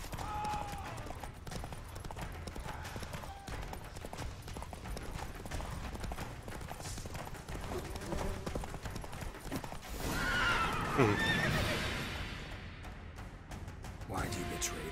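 Hooves of Roach, Geralt's horse in The Witcher 3, clip-clop steadily at a gallop through most of the stretch, with a neigh rising near the end, all under a continuous game soundscape.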